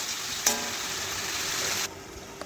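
Potatoes cooking with spices in a pan give off a steady, close sizzle and frying hiss with a brief clatter near the start, fading abruptly near the end.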